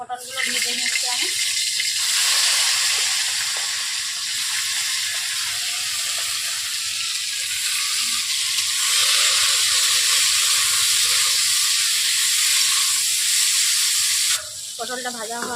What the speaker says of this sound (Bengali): পটলগুলো ভেজে নিচ্ছি আমি।